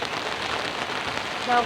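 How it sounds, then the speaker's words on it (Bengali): Heavy rain pours down in a dense, steady hiss, drumming hard on surfaces over a brief moment. "এই যে বৃষ্টি জোরে নামছে"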